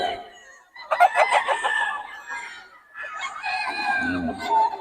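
Several fighting roosters, including a White Kelso, crow in succession, loud and close, with hens clucking underneath and a voice talking in the background.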